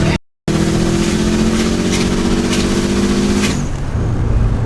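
A Subaru STI with an electronic wastegate at full boost roars loudly and steadily, a sustained engine drone with a droning tone that shifts and fades near the end.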